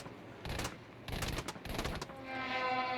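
Short bursts of aircraft machine-gun fire in Battlefield V, three or four rattling volleys separated by brief gaps, then a rising engine drone, no talk.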